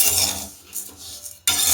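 Cumin seeds dry-roasting in a pan, stirred with a metal utensil: brief scraping and rattling against the metal, close and fairly loud, with a short pause before a sharp final scrape and no voices.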